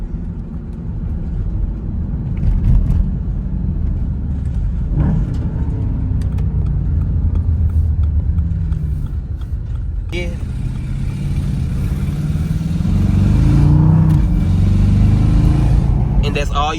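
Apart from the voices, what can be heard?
car exhaust after a muffler delete, revving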